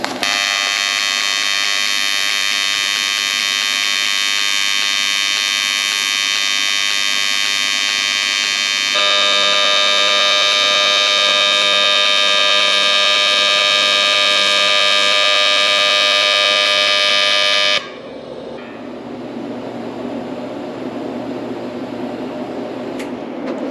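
AC welding of aluminum for a small trailer gives a loud, steady electric buzz that holds for about eighteen seconds and then cuts out, leaving a quieter hiss.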